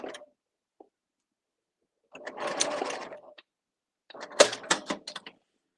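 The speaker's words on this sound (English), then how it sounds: "Just need to back stitch." A home sewing machine back stitches while making a thread catcher: a short tick at first, then two quick whirring bursts of a second or so each, separated by silence.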